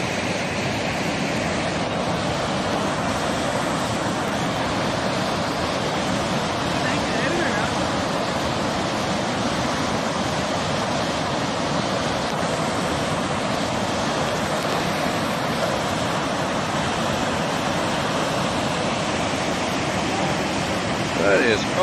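A New Brunswick waterfall with heavy flow carved into rock, rushing loudly and steadily throughout as a dense, continuous roar with no pauses.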